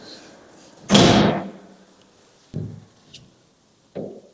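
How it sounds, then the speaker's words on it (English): An apartment door in Fukuoka, Japan, is shut on a cold, snowy day with one loud, close slam, followed by a few softer knocks and thuds. "Let's get that door closed."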